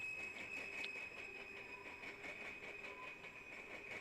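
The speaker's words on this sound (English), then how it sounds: "it looks like it actually might be an empty ethanol train" A freight train rolls by, apparently an empty ethanol train with a potash hopper, giving a steady rhythmic clickety-clack of wheels over rail joints with a high metallic squeal running underneath the whole time, fairly distant and even.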